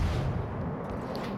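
Twelve-inch naval guns of the cruiser Puerto Rico firing in World of Warships Legends, a single heavy, rumbling artillery boom that fills the short moment and rolls on without fading.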